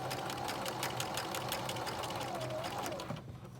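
Sewing machine stitching fabric, a fast steady run of needle clicks up close that slows and stops near the end, with a faint low hum beneath.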